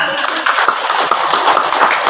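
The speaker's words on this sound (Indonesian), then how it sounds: "Tepuk tangan." A crowd at an Islamic study gathering gives a short, loud burst of close applause, dense clapping lasting about two seconds.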